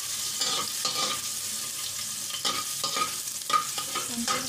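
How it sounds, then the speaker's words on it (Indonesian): Tuna sautéed with garlic and spring onion sizzles in a pan, with intermittent scraping stirs and soft clinks close by and no talking. "Kita tumis dulu tunanya."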